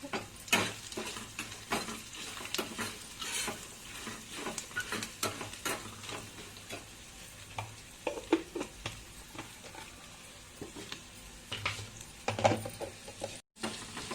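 Faint crackling sizzle of spices in hot oil, with scattered stirring clicks and light utensil taps against the pan.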